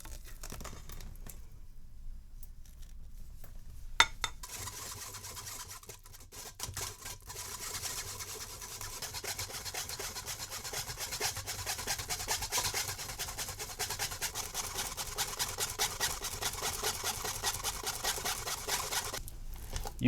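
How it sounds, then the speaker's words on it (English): Whisk stirring raspberry jam through a metal strainer, a steady scraping and rubbing that runs continuously, close and moderately loud, with no talk. "Immediately pour the jam into the strainer and stir it with a whisk."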